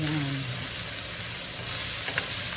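Meat frying in a pan with garlic, onion and ginger for Bicol express, a steady close sizzle that continues without pause throughout.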